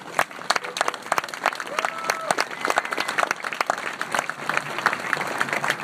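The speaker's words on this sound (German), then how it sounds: "Deswegen ein Applaus an Lars und auch alle, die hier sind." Outdoor crowd at a peace vigil rally in Vienna applauds with dense, steady clapping that runs throughout, with a few voices mixed in.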